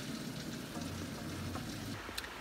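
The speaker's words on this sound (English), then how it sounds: "So hard it's raining here right now." Heavy rain pours through a rain forest, a steady, soft broadband hiss that fills the whole stretch with no talking, over a faint low hum.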